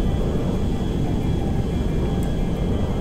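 Boeing 747 jumbo jet flying in GTA 5, a loud, steady, dense engine roar filling the whole stretch without pause.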